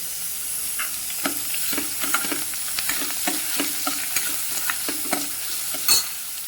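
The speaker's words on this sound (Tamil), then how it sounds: "இப்போ வெங்காயம் நல்லா வதங்கிடுச்சு பாருங்கள்." Onions and crushed garlic sautéing in a pan, a steady sizzle broken by repeated scraping stirs and small spatula taps, close and moderately loud with no voices.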